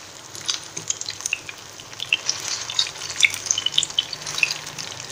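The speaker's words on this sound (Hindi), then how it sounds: "ये देखिए इसी तरह से 2 से 3 मिनट हम उसी साइड पे फ्राई करेंगे।" Potato chapli kababs topped with tomato slices fry in a pan, a steady close sizzle with scattered pops and crackles running throughout, with no talk.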